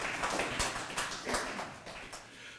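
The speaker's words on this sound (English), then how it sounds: "So, again, a round of applause for all of them." Audience applause at a gallery's ten-year anniversary event for an art and design school, a dense patter of many hands clapping in a room, fairly steady and fading slightly toward the end.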